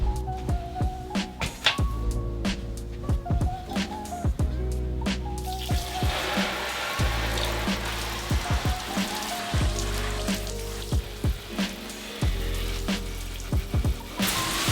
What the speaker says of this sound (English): now I'm just gonna move everything into my tub and water them there.